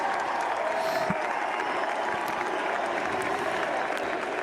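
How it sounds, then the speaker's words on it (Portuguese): An audience applauds and cheers a speech by the newly elected US vice president at a Trump victory event, a fairly faint, wide wash of clapping and crowd noise heard from a distance, steady throughout. "o público aplaude efusivamente"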